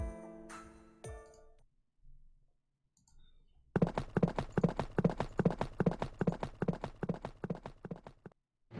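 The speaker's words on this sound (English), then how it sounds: "A carriage is coming." Horse-drawn carriage approaching in the Fate GO game: a few clinks and a pause, then a steady run of clip-clopping hooves with light jingling, close and clear with no talking.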